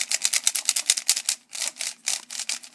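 A mini stickerless MoYu Aolong v1 speedcube being turned quickly, a dense burst of soft, high clacking layer turns in a fast rhythm, close up with no voices.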